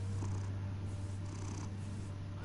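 A cat in Batman: The Telltale Series purrs in a close, continuous low rumble with steady rhythmic breathing pulses, heard alone without speech.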